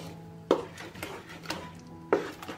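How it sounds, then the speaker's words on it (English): Ground tomatoes cooking in a pan on the stove over low heat, stirred with a spoon that gives two distinct knocks against the pan amid soft scraping and a faint simmer. "I will stir and cook at a lower temperature for 30 minutes"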